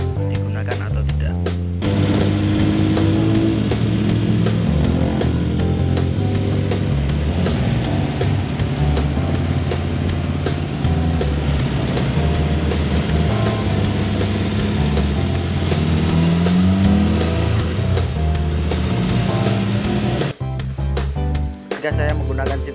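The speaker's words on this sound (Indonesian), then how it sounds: "kita sekaligus jalan-jalan dan sekaligus kita mencoba Jeep Willys buatan karya anak bangsa ini" A locally built Jeep Willys running on a public road, a loud continuous engine drone with rumbling wind and road noise throughout, dropping off briefly near the end.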